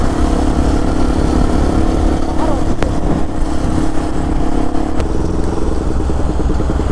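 A motorcycle ridden at top speed on an open road gives a loud, steady engine drone with wind rush throughout. A couple of brief clicks and rattles cut through, and faint voices may sit under the roar.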